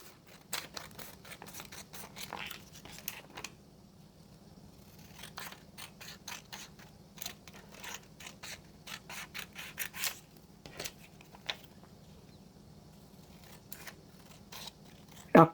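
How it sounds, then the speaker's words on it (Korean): Scissors snip repeatedly through folded paper for a persimmon mobile craft, a long series of crisp close cuts in irregular bursts with soft rustling and handling sounds between. "여기 선을 따라서 가위로 오려주시면 돼요"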